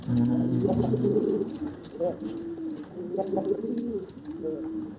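Pigeons at a pigeon breeding farm give low, repeated rolling coos, close and clear, with a person's voice mixed in.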